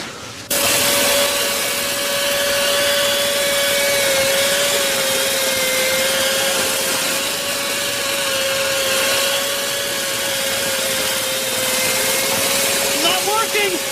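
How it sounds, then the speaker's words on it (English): Drilling that runs continuously and loudly as a steady grinding roar with a sustained whining tone that barely changes. "They're drilling again."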